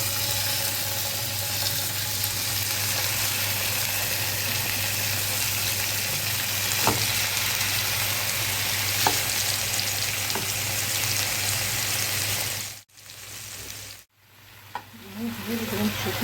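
Shish tawook chicken frying in a pan, a loud continuous sizzle with a few sharp crackles, cutting out briefly near the end as the pan is handled, then resuming more quietly.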